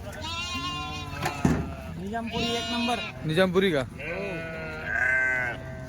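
Full-grown sheep bleat loudly and repeatedly close by at a livestock market in Chalisgaon, their wavering cries overlapping with someone talking.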